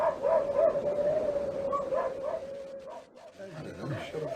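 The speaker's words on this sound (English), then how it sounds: "You should tell the Huskies, Chief. They've been going on bloody non-stop." Husky dogs keep up a steady mix of barks, yips and drawn-out howls, a dense, continuous chorus heard with voices talking over it.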